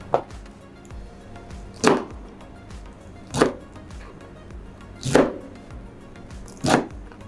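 Five sharp knife chops on a cutting board, spaced about one and a half seconds apart, close and fairly loud with quiet kitchen background between.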